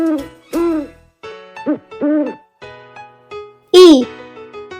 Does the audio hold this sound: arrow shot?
no